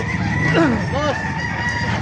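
A rooster crows loudly and close by, one drawn-out call rising and falling over a busy background of other birds and faint voices.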